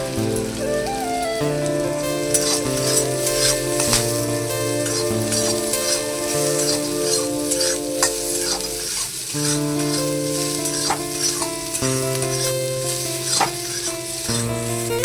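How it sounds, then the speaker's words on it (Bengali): Carrot and capsicum fry in a pan and are stirred now and then, with a sizzle running beneath steady background music. "আমার গাজর ক্যাপসিকামটা একটু লাল লাল করে ভাজা হয়ে গেছে"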